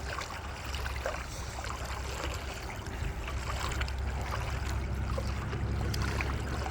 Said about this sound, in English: Water's got a mild chop to it.